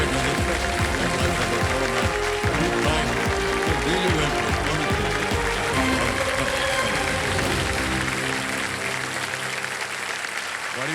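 A studio audience on the quiz show Kaun Banega Crorepati claps steadily and loudly, a dense, sustained wash of applause that holds for several seconds before easing off near the end.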